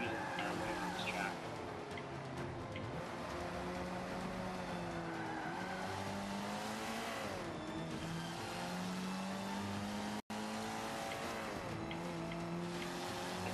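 Race car engine in Forza Motorsport 5 on an early sport track in France, droning and revving steadily with shifting pitch and occasional tire skids, loud throughout with a brief dropout, while people talk over it.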